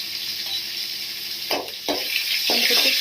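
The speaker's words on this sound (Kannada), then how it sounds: "ಇಲ್ಲಿ ನಾನು ಬೆಳ್ಳುಳ್ಳಿ ಹಾಕೋತಾ ಇದ್ದೀನಿ" Garlic dropped into hot oil for a lentil and jaggery rasam, with a steady bright sizzle and two or three sharper bursts of spattering as pieces hit the pan.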